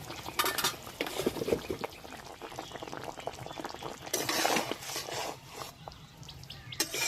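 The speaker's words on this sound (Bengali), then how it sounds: "এবার কিছুক্ষণ ফুটিয়ে নিলে একদম রান্নাটা রেডি হয়ে যাবে" A mustard fish curry with green chillies simmers and bubbles in a pot, a dense low burble of boiling liquid with occasional faint clinks, steady and moderately quiet throughout.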